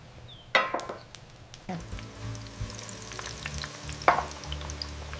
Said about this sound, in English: Hear that beautiful sizzle.